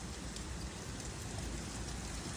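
Strong wind blows steadily outside a home, a dense, even rush of noise that holds at the same level throughout with no voices.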